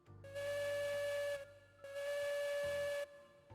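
Two long, loud blasts from a steam locomotive whistle in the video game Railroads Online 2, each a steady tone with a hissing edge, split by a short pause and set over a low engine rumble.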